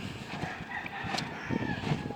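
An old hen and her young rooster son, a gamecross, clucking and calling close by outdoors over wind noise on the microphone, with a few short bird calls rising above the steady rumble.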